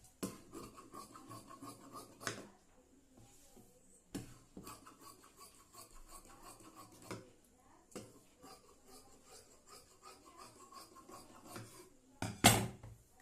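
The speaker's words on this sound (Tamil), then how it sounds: "இப்போ வந்து இந்த மீதி இருக்கிறதுல வந்து நம்ம இந்த பட்டியை கட் பண்ணிடுவோம்" Scissors snip through fabric while a strip is cut for a blouse, a series of dry rasping cuts in bursts separated by brief pauses, close and fairly quiet, ending with a sharper final snip.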